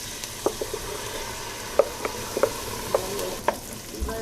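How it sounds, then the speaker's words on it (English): Chopped onion, garlic, oregano and thyme cooking in lard for pork tamales, with soft frying and stirring, a few spoon clicks and scrapes spaced irregularly over a low sizzle, close and moderately quiet. "we're gonna cook that in the oil and throw in the chili"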